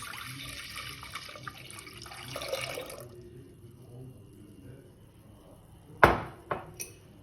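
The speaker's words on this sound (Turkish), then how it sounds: "1 litre sütümüzü tenceremize boşaltıyoruz." Milk pours steadily into a pot for a few seconds, then stops; a few sharp metallic clinks follow near the end.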